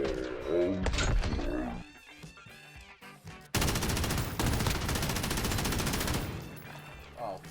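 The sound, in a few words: gunfire in Modern Warfare video game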